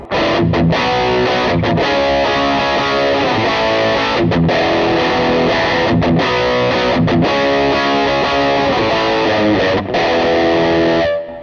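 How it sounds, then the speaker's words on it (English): Distorted electric guitar playing chords continuously through a Line 6 HX Stomp Dynamic Hall reverb at a low mix, with a faint, short room ambience trailing behind the notes. "with a lower mix, does create like a very subtle reverb"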